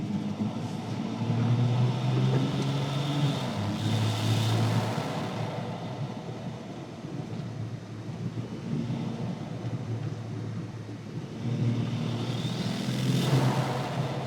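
A modified turbocharged car accelerating hard through a 0 to 100 run, heard from inside as a loud, wind-buffeted engine roar that rises and falls across gear changes, with no talking.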